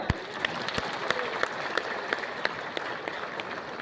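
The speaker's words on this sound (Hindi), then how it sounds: "एक बार जोरदार तालियां।" Scattered audience clapping at a college event, a few sharp distinct claps standing out over a soft, steady crowd background.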